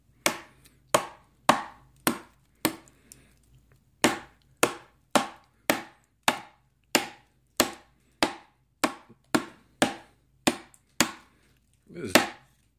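A Cold Steel 4Max knife chops into wood in about seventeen sharp, evenly spaced strikes, each a crisp close thunk with quiet gaps between, the final blow slightly heavier.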